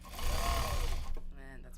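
A sewing machine stitching a large box bag, a brief, close, rapid mechanical whir lasting about a second, followed by a short voice.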